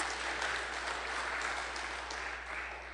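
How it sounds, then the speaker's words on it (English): A church congregation at a Unity service gives steady applause that sounds faint and distant, a continuous wash of many hands with no voices standing out. "Y'all can clap."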